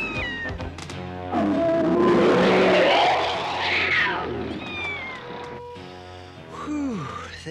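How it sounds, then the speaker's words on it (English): Loud cartoon creature roar, a manticore call aimed at scaring off a saber-toothed cat, a sustained snarling wail lasting several seconds over whistling sound effects. "Maybe I can scare it off with a manticore call."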